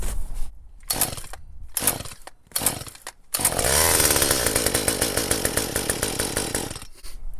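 A Stihl MS 193 C chainsaw is pull-started: several short rasping starter-cord pulls with gaps between them, then the small two-stroke engine catches and runs loud and steady nearby, dropping away at the end.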